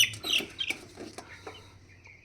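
Broiler chickens about sixteen days old clucking and chirping at close range, several short calls in quick succession, then fainter scattered clucks over low background noise.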